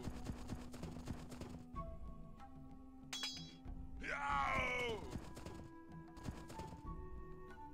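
Horses in the Age of Empires strategy game, in a hard Crossing of the Pyrenees scenario, with a clip-clop of hooves and a loud neigh or whinny in the middle, heard over steady game sounds and music.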